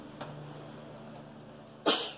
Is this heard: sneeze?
yes